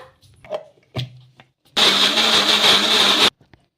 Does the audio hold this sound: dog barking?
no